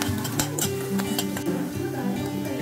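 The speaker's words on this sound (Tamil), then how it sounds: "பூண்டு வெங்காயமும் நல்லா வதங்கட்டும்." Crushed garlic, onion and curry leaves sauté in a pan for a Tamil egg kuzhambu, a steady soft sizzle under repeated scraping and clinking as a spatula stirs, with no talk.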